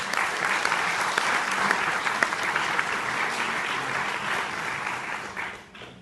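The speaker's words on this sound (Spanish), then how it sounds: "Den un aplauso a él." An audience at a university event in Colombia bursts into sustained clapping, a thick continuous patter with a few sharper claps standing out, fading away near the end.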